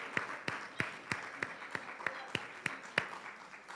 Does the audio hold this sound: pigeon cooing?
no